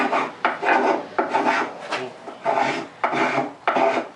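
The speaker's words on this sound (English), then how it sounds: "You can turn your Spokeshave to an angle like a skew." A hand spokeshave carves a wooden stool seat, making about seven separate rasping strokes in an uneven rhythm, each a close, bright scrape with brief pauses between.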